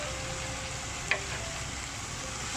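Pork leg stir-frying in a pan with fish sauce, seasoning powder and oyster sauce, giving a steady, soft sizzle throughout with one brief sharp clink partway through.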